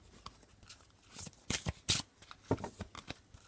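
Tarot cards being shuffled and cut by hand, a run of crisp riffling bursts and soft slaps at close range, with no talking.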